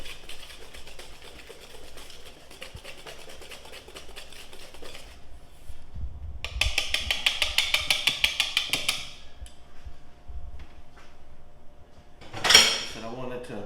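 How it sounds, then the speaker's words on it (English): A whisk beating a glaze for cinnamon raisin biscuits in a bowl, a fast run of rhythmic metallic clinks against the bowl between quieter kitchen clatter, ending with a sharp clank. "Let me give the glaze one more whisk here."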